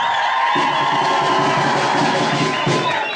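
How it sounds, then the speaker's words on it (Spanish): A large crowd at a San Simón event cheers and yells loudly for the participants, a dense continuous roar of voices and whoops with some applause mixed in. "vaya un aplauso y un grito también para ellos"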